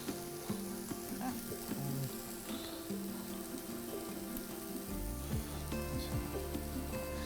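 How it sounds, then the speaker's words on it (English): Onions fry in a pan with a soft, steady sizzle and crackle. Faint intermittent tones and taps sound behind them, and nobody speaks. "keep your eye on the onions while they're cooking off that 5 minutes as well"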